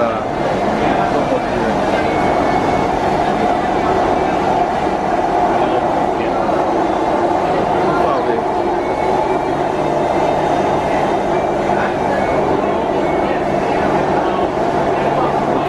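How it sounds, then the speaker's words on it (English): Steady, loud rumble of a subway train running through a tunnel, a continuous roar with faint rhythmic rail clatter filling the whole stretch, with some talk on top. "now we are in the tunnel, in the subway tunnel"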